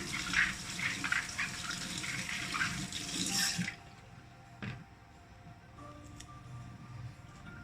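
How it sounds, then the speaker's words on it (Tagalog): Tap water running over fruit being washed for a fresh fruit salad, a steady gushing stream for a few seconds that stops abruptly, followed by quiet drips and faint handling sounds. "hugasan muna natin siya guys para mawala yung kanyang mga anik-anik"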